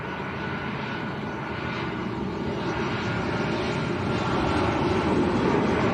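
A TUI passenger jet from Stuttgart rumbles at Lanzarote's Arrecife airport, a steady broadband engine roar that swells gradually louder toward the end.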